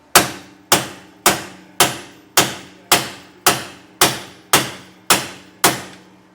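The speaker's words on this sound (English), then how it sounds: "And we'll just kind of keep hammering and tightening this down as we go." A hammer strikes a bolt on a trailer crossmember in a steady series of about a dozen sharp metallic blows, evenly spaced and ringing briefly after each hit, close and clear with no voices.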